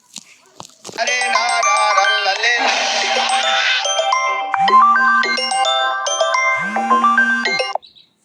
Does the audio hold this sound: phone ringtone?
yes